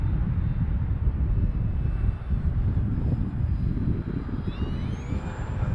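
E-Flite Vans RV-7 model airplane flying in wind, a steady broadband roar with a faint motor whine drifting in pitch as it passes, heard alone without talk.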